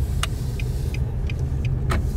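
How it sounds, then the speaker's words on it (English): A car drives past at close range, its steady road and engine rumble loud and continuous for a couple of seconds, with brief higher clicks and ticks over the top. "We got a car traveling."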